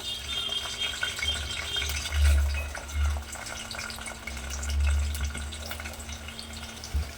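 Onions dropped into hot oil for a green chicken masala curry fry with a steady crackling sizzle and low rumbling swells, close and continuous, with no speech.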